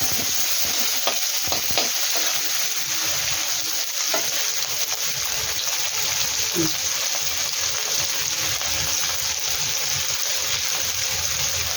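Onions frying in oil in a pan for a Bengali catfish (ritha) curry gravy, with a steady broadband sizzle that runs the whole way and occasional scrapes as a spatula stirs them.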